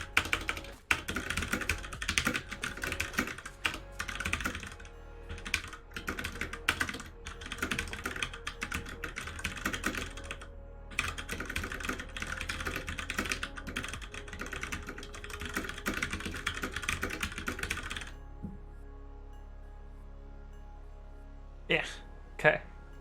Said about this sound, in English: Take a short typing test.